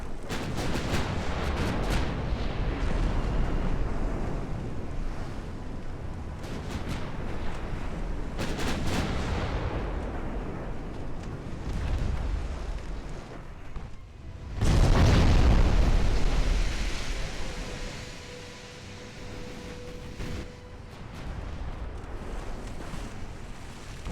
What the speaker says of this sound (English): Gonna turn a bit to start letting our rear-facing guns open up on them as well.